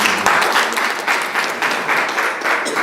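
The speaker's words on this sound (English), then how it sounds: "I'm glad you clap your hands" An audience applauds at a teacher union gathering in Durban, with dense, steady clapping from many hands continuing evenly throughout.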